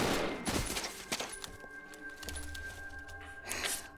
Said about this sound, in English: 7 shots. That's all I had.